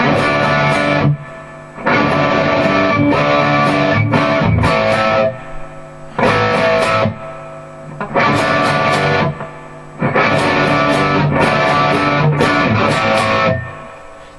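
An electric guitar with Suhr Doug Aldrich pickups runs through overdrive and a touch of reverb, playing loud, distorted rock riffs in repeated phrases with short pauses between them.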